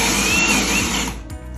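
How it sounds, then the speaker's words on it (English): A power drill bores at an angle through a wood beam with a spade bit during a ceiling fan installation, a loud whirring run lasting about a second before it cuts off. "I can drill at an angle with my spade bit to run my wire"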